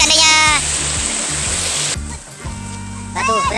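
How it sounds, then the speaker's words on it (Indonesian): Steady broadband rush of the Telempong waterfall near Banyuglugur, Situbondo, heard from a nearby trail, loud and continuous with people talking and a voice over it. "Itu air terjunnya di depan."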